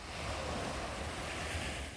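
A continuous wash of ocean waves on the beach at Haeundae, Busan, after dark, steady and fairly loud with wind noise rumbling underneath and no speech.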